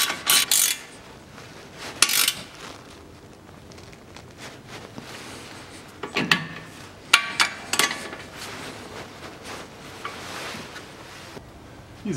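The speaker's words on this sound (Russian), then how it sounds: "и затягиваю контрагайку." A tie rod end lock nut being tightened on a 2003 Toyota Harrier, with scattered close metallic clicks and ratcheting clatters in bursts between quieter stretches, no voices.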